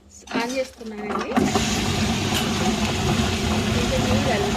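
A wet grinder runs steadily after being switched on, grinding soaked wheat, rice and fenugreek into dosa batter, a constant whirring drone that hums on alone after a brief start.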